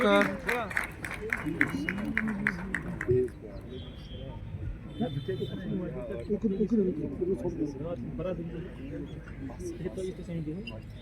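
An audience in Nishat, Srinagar applauds as LG Manoj Sinha comes to the stage at an e-bus inauguration. Dense clapping opens the moment and fades after a few seconds beneath someone speaking over a microphone.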